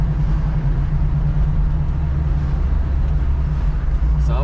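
A Camaro Z28 V8 engine with a carburetor problem idles close by with a steady, loud, low rumble and a slightly uneven pulse, running continuously without pause.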